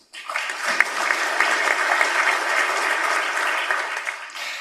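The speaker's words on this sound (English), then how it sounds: "Let's give a round of applause." An audience at an open-infrastructure and software conference breaks into steady applause that starts abruptly and holds at an even level throughout, with dense, sustained clapping and no speech over it.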